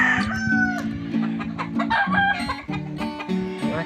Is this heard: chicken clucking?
yes